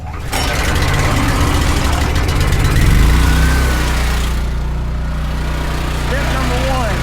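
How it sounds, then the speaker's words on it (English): A small gasoline pressure washer engine for a power washing job starts up and settles into a steady, loud idle with a low rumbling drone that continues throughout, with a person talking briefly over it. "Now we're gonna crank our pressure washer up."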